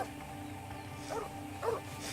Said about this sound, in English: It would have been alright, but that infernal dog.